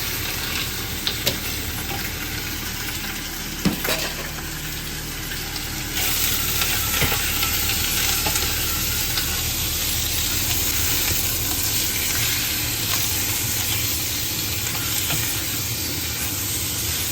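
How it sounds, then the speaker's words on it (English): Beef sizzles steadily in a hot wok as it is stirred, with a constant frying hiss and occasional scraping clatter, close and continuous with no talk. "And now I'm going to put the meat in."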